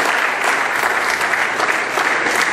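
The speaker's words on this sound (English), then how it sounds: "So I want us to give ourselves a round of applause for what we've done." Dense, steady applause from a gathered audience at a refugee-protection event, filling the room evenly from start to finish with no voices on top.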